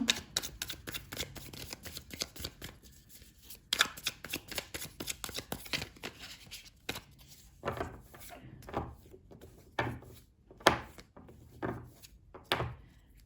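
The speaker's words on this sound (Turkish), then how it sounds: "Evet desteği karıştırıyorum şu anda." A deck of tarot cards is shuffled by hand close up, with repeated soft riffling and slapping bursts that come in an irregular rhythm and grow sharper toward the end.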